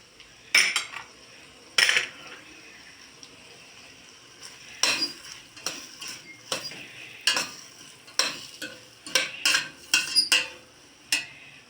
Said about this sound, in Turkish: Soğanlar Biraz kendini çekene kadar kavuracağım